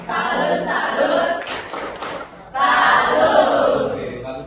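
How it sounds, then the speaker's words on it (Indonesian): A classroom group claps together with loud, rhythmic hand claps mixed with chanting voices and thumps, then a brief pause before the clapping resumes just as loud. "tepuk tangan dulu buat David."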